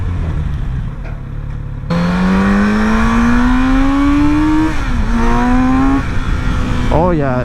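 A Kawasaki Z900RS motorcycle engine revs hard while riding, its rising whine climbing through the gears with a brief dip at each shift, loud and close over wind noise.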